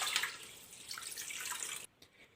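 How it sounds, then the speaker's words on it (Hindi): Water pours steadily into a pressure cooker with a bright splashing rush for about two seconds, then stops abruptly, close and fairly quiet. "और इसमें हम पानी ऐड करेंगे"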